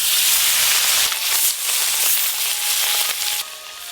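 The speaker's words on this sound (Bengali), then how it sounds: "এই যে খয়রি মাছগুলো খুব ভালো করে ভাজা হয়ে গেল" Khoira fish frying in hot oil in a home kitchen, a steady loud hiss and sizzle with crackling bursts running throughout, no talk.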